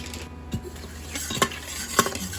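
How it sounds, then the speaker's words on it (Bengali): Bay leaves, dried red chillies, whole garam masala, cumin and star anise sizzling in white oil in a pan: a soft, continuous frying hiss with a few clear clinks and scrapes from stirring. "প্যানের মধ্যে সাদা তেল নিয়ে নিয়েছি এইবার তেজপাতা শুকনো লঙ্কা গোটা গরম মশলা আর জিরে দিয়ে দিলাম"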